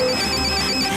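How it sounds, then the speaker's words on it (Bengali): A telephone rings in a cartoon, a steady electronic ringtone tone sounding loud and continuous with no voices. "শিবা তো ফোন তুলছে না"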